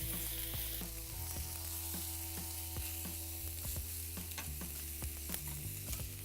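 Lamb lollipops sizzle on a cast iron pan over a grill, a steady fry with scattered crisp pops and spatters, close and alone without talk.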